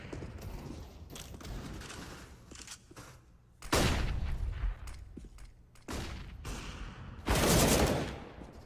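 Deagle pistols and other guns fire in a Counter-Strike match on the Mirage map, with dense, continuous volleys and several louder, sharper bursts standing out. No voices are heard.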